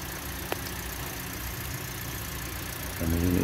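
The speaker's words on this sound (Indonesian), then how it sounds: "Dan ini udah kita starter mobilnya" A car engine idling steadily after being started, a low even hum with a brief tick early on and a slight rise in level near the end.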